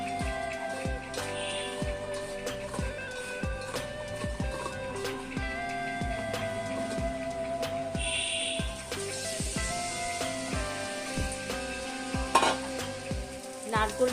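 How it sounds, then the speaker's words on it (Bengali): Coconut pieces sizzle in about two spoons of oil in a wok, a steady frying crackle broken by repeated scrapes and clinks of stirring, with no talking. "এরপর কড়াইতে কিছুটা তেল দিলাম, 2 চামচের মতো। নারকেলগুলোকে আমি ভেজে নেব।"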